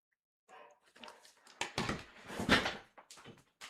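Indoors, a dog makes a scuffle of faint scrabbling, thumps and clicks, with sharper knocks in the middle, fairly quiet and irregular over a few seconds.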